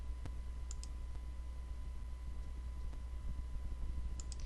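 A few faint, sharp clicks of a computer mouse in a quiet room, spaced irregularly with a soft background hum.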